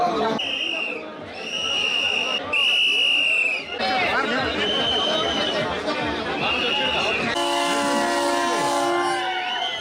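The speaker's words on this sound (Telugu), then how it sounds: "పచ్చజెండా ఊపి రైలును ప్రారంభించారు" A Vande Bharat train's horn blasts in several long tones over crowd chatter and a rumbling train at its inaugural halt in Eluru, followed by a steady multi-tone horn near the end.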